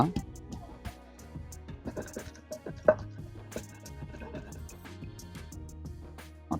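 Garlic pounded in a stone mortar for a tomato roti pachadi chutney: a close run of irregular knocking thuds with short gaps, fairly steady in strength, with a sharper strike near the middle.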